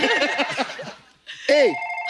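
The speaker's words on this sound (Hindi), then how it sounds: "सर मेरे को फोन आया, मैं उठा सकते हैं प्लीज?" A phone rings in short warbling tonal bursts, loud and close, with a brief gap between them, while someone speaks and another voice chuckles.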